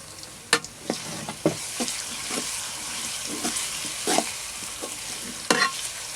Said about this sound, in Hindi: लहसुन अदरक की थोड़ी जी भुनाई की है।